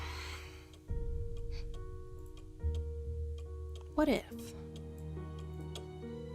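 A steady clock ticks in the Nancy Drew game Message in a Haunted Mansion, faint and regular beneath soft background music, while a voice speaks briefly over it.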